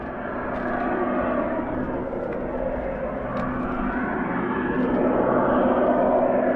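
A jet aircraft hovers at an air show, giving off a loud, sustained roar that swells slightly toward the end.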